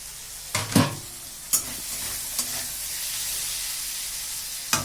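Okra curry sizzles in a pan with a steady frying hiss, broken by a few sharp stirring scrapes and clatters of the utensil against the pan.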